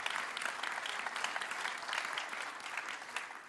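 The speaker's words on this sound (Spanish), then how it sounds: "Denle un aplauso a Él" Congregation applauding in a church service, a steady, continuous wash of many hands clapping at moderate level throughout, somewhat distant and without talk.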